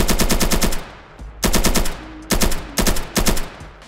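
Automatic weapon fire in the video game Polygon, loud rapid bursts of gunshots in several separate volleys, with brief gaps between them.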